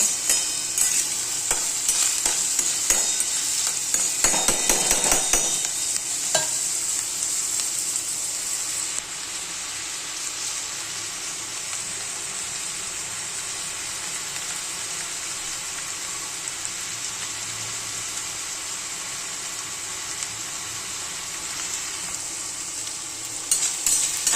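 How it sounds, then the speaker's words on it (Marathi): Chopped onion fries in a pan, a continuous close sizzle with bursts of stirring and scraping early on, then settling into a quieter steady hiss of oil, no talking. "तोपर्यंत कांदा इकडे फ्राय होत आहे"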